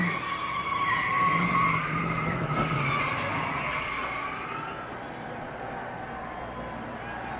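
Marcus Ambrose's NASCAR stock car sliding on track, a loud sustained tire screech with engine roar that swells, then fades toward the end, with commentators talking over it.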